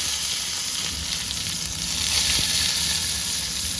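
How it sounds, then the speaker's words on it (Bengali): Chopped garlic fries in hot oil with dried red chillies and cumin, giving a loud, close, continuous sizzle with faint crackles and no voices. "লাল লাল করে হয়ে গেছে রসুন ভাজা"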